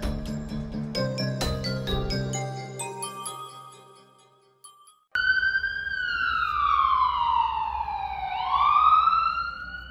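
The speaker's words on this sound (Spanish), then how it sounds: "El sonido de una ambulancia." An ambulance siren, loud and close, with a long rising and falling wail that follows a few seconds of bright jingling tones and a brief near-silent gap.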